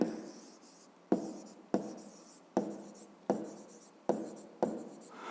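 Pen writing out a fifth-grade math word problem solution by hand, in a series of about eight distinct scratchy strokes, each starting sharply and trailing off, close and alone with no talking.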